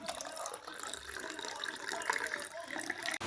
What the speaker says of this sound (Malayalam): ഇത് വെള്ളം കൂടെ ഒഴിക്കണം.